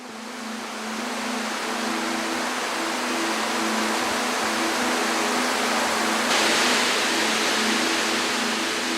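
Shirai Tonotaki waterfall on the slopes of Mount Fuji: a broad, continuous rushing roar of falling water, steady and fairly loud, with a faint low tonal hum underneath and no voices.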